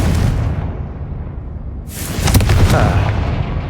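A Confringo blasting spell explodes in Hogwarts Legacy, giving a deep boom that fades and then a bright burst and crackling blast a couple of seconds later, close and loud.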